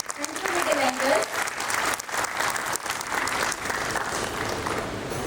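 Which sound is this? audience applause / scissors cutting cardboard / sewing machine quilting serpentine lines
audience applause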